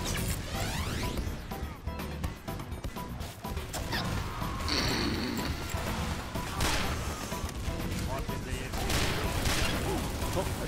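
Rapid gunfire and impacts in Team Fortress 2 during a hectic match, a thick clatter of shots, crashes and mechanical clanks running throughout with game sounds layered on top.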